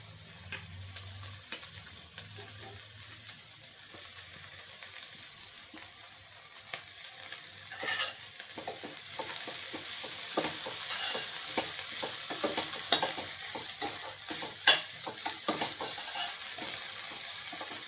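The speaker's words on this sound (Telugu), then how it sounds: "మెంతులు కొంచెం ఎక్కువసేపు వేయించుకోవాలండి" Fenugreek seeds frying with onions in a pan, a continuous sizzle that grows louder and brighter partway through, with repeated spoon stirring and scraping strokes close up and no speech.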